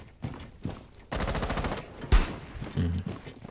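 Gunfire in Rainbow Six Siege: a short opening shot, then a rapid automatic burst of about a dozen rounds, a sharp loud crack and a final short burst, close and punchy.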